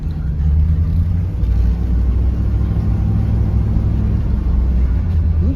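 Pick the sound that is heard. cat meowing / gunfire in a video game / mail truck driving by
mail truck driving by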